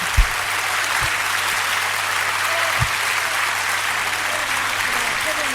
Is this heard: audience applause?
yes